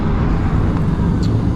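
A Segway electric motorcycle on a test ride at CES 2024 accelerates hard, a loud, close rushing roar of motion and wind that holds steady throughout.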